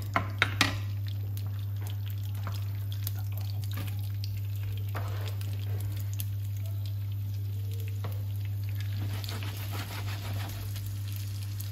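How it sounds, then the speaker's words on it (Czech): Chopped onion sizzling in melted pork lard in a pan, a steady soft frying hiss throughout, fairly quiet with a constant low hum beneath and a few faint clinks near the start. "Přidám do toho cibulku a osmažím do jemně růžová."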